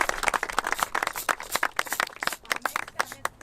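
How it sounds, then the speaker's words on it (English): An audience at a Lenape peace treaty renewal celebration gives a round of applause, with dense, irregular clapping that stays close and steady and has no talk over it. "Round of applause for doing that"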